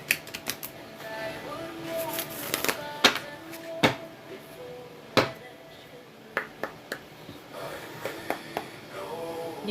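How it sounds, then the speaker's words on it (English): An oracle card deck being shuffled by hand gives crisp, uneven clicks and riffling snaps in short bursts, close by, with quiet talk now and then between them. "Alright, we'll do this last shuffle"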